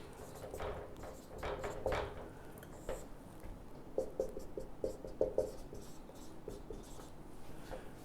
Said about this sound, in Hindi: और मैं उसे बोर्ड पे लिखता हूं